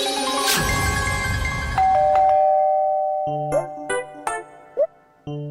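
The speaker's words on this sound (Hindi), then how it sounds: "दरवाजे पे डोरबेल बज रही है, दरवाजा खोलो।" A doorbell rings repeatedly in a domestic scene from a children's fantasy TV series, with bright ding-dong chimes sounding over fading music, then several more separate rings at close range.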